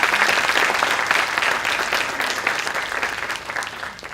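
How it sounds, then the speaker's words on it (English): An audience at a college orientation session applauds a visiting international trainer with a full, steady round of clapping that stays loud throughout and eases slightly toward the end. "Can we have a huge round of applause for him?"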